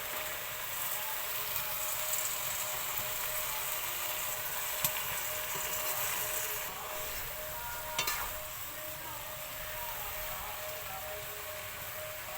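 Flat beans tossed into a hot frying pan with oil set off a steady, even sizzle that hisses continuously, with a couple of faint clicks of utensils against the pan.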